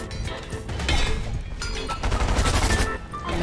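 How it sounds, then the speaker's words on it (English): Rapid submachine gun fire in the video game Fortnite, dense loud crackling bursts filling most of the moment with a short gap midway, close and continuous. "He just submachine gunned me."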